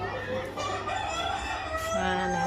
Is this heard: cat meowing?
no